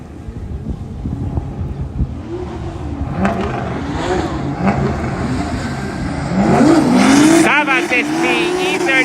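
A BMW V8 drift car at full throttle during Cyprus Drift Championship practice, with a loud, sustained engine roar and rising tire squeal. A commentator's voice runs under the noise.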